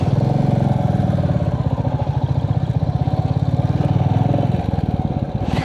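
A motorcycle engine on a mountain road trip near Kurseong, Darjeeling, running with a loud, steady, pulsing throb close by, nearly unbroken throughout.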